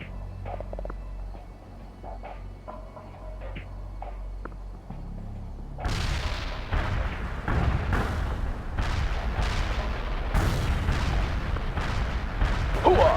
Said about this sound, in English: Artillery barrage inbound.